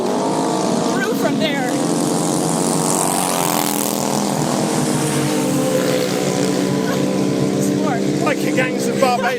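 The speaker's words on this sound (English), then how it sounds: "I've never seen motorbikes on Barbados before, actually." Engines droning and rising as motorbikes pass by on a road in Barbados, loud and continuous, with voices talking over the traffic noise.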